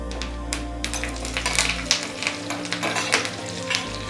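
Curry leaves hit hot tempering oil alongside red chillies and cashew nuts, giving a bright crackling sizzle with quick pops and spatters close up, after a low hum cuts out.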